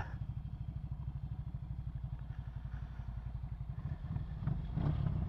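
A 2023 Ducati Scrambler with an L-twin engine runs steadily nearby, a rhythmic, lumpy low-pitched pulse that grows slightly louder and rougher near the end, with no talk over it.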